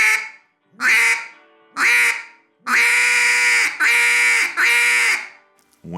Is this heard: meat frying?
no